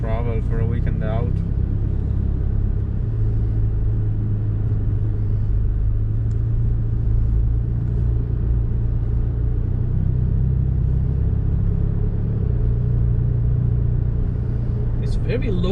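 A Ferrari Roma engine turns over at very low revs, a steady deep rumble running beneath the cabin for the whole stretch, with a short bit of talk near the start.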